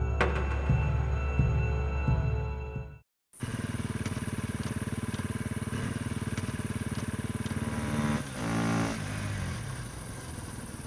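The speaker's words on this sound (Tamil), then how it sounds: "வண்டி வேற அடிக்கடி ஆஃப் ஆகுது" A motorbike engine runs with a steady, rough idle, cuts out abruptly into a moment of silence, then starts again and keeps running, with a brief surge in the middle.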